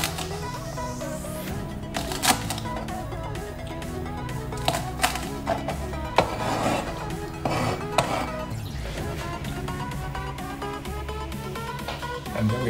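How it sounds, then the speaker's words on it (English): A cleaver chops trimmed green beans into short lengths on a board, a close run of sharp repeated knocks over a busy, loud background, with no talking. "I'm just going to chop them into short lengths for easy consumption."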